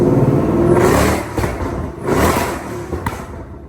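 A Ford Coyote V8 idles inside a car at a raised mid-idle, a close mechanical hum with slight swells and clatter.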